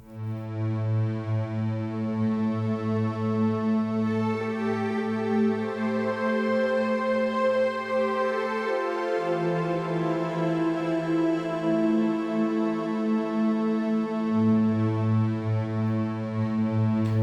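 Sustained droning instrument built from a Neutron synth with granular synthesis, a dense buzzy harmonic tone holding steady with a low note that drops out and returns, continuous and moderately loud.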